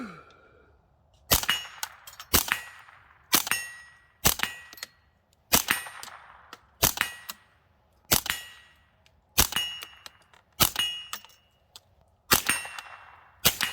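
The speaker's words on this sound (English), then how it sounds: "same 8-inch barrel, AR platform, shooting a 6-inch steel plate" AR-platform rifle with an 8-inch barrel and a 3D-printed suppressor firing at a 6-inch steel plate, with about a dozen evenly spaced sharp reports each followed by a bright metallic ring of the hit.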